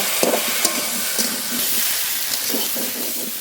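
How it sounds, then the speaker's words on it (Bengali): Fish heads sauté in a pan for a Bengali curry, giving a steady broadband sizzle with a few soft stirring scrapes and knocks throughout, close and continuous. "দুটো মাছের মাথা দেবো, আর একটু কষিয়ে নেব।"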